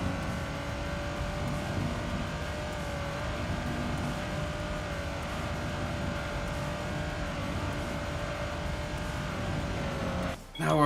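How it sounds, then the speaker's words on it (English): A race car in Gran Turismo 3 holds steady in third gear against the rev limiter, producing a continuous, buzzing engine drone at high revs that stays level and close throughout before a brief shift in tone at the very end. "Just bouncing it off the rev limiter and using that to weight transfer."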